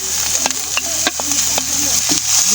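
Chopped onion sizzles in hot oil in a pan with a steady, close hiss, broken by a few soft clinks and stirring scrapes.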